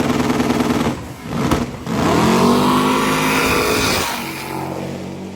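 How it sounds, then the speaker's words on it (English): A twin-supercharged Camaro drag car accelerates hard down the strip at a drag racing event, its loud roaring engine rising in pitch through gear changes, heard from trackside. "This car is the unique Camaro with 2 blowers on it."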